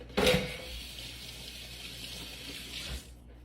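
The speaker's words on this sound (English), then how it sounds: "I'm going to wash my hands." A kitchen tap runs while hands are washed beside a crock pot, a steady rush of water that starts with a splashy burst, holds evenly for about three seconds and then cuts off, close by with no voices.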